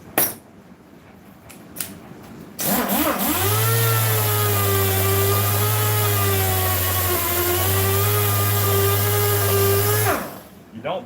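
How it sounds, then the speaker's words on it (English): An electric grinder shaping the foam of a 1974 Ford truck seat spins up to a loud steady whine with a falling then wavering pitch, running several seconds before winding down, preceded by quiet handling noises. "Take your grinder, don't have to be this kind, there's other kinds you can use, just take your grinder."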